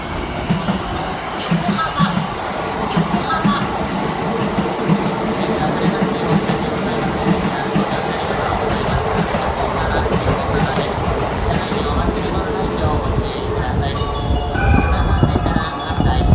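A JR E233 series Keihin-Tohoku Line local train pulls into platform 3 at Yokohama Station, arriving late after an abnormal-noise delay; a steady rumble of wheels and rail clatter runs throughout and swells near the end, with faint station announcements.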